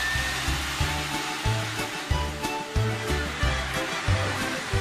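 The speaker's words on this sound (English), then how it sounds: "She's going to vacuum her car." A vacuum cleaner runs while cleaning a car, giving a steady whooshing roar with rhythmic low surges roughly every half second as the nozzle moves, fairly close and continuous with no talking.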